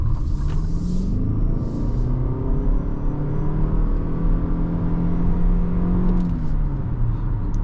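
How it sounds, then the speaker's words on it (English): A 2026 Lexus ES350h hybrid sedan drives on the road. A steady, loud low rumble of tyres and motor rises and falls slightly with acceleration, heard from inside the car with no voices. "let's go hop out on the road and take this all-new Lexus"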